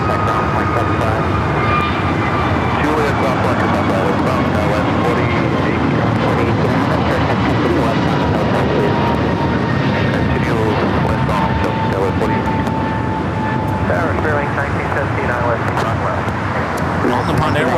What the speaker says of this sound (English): the Dreamliner coming up from Tokyo Narita, heading into the gates of Talbot Bradley